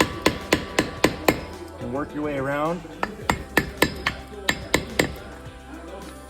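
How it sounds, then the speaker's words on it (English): A hammer striking a flat blade to knock an old hub seal out of a Dana 60 hub, sharp metallic taps in quick runs with a brief scraping squeal between them and someone speaking once. "Best way I found to do it is use a flat blade and a hammer"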